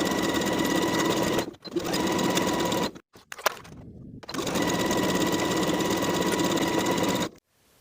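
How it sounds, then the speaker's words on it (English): Sewing machine running steadily while stitching the side seams of a knit pants waistband at a 3/8 inch seam allowance, a loud continuous whir in two long runs separated by brief stops and a few clicks. "Sew both seams at 3/8 of an inch and press the seams open."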